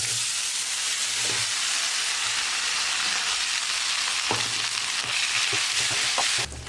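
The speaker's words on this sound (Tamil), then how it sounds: "1 நிமிஷம் நல்லா வதக்கணும்." Crumbled idli sautés in a hot pan for idli upma, with fried lentils already golden. A dense, continuous frying hiss is broken by a few short spatula scrapes.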